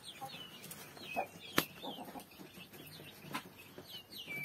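A hen in a farmyard with chicks clucks softly in short, scattered calls, with one sharp louder burst midway, faint and close against quiet background.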